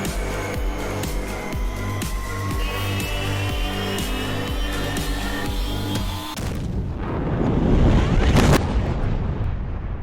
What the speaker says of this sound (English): that's a crazy explosion he's trying to